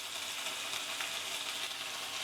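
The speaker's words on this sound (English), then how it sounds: "Now the cutlets are being cooked in a small amount of olive oil." Cutlets frying in a small amount of olive oil, a close, even, hissing sizzle that holds steady without pause and with no voices.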